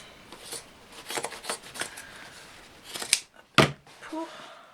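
Scissors snip and crunch through a denim jeans leg in a run of uneven cuts, then a couple of louder closing clacks of the blades, close and clear with no talking over them.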